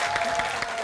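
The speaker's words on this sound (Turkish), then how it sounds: "Şimdi Özlem Hanım'ınkini bir alkışlayalım." Studio audience applauds a contestant's dish on a Turkish TV cooking show, a steady, dense patter of clapping filling the whole moment without pause.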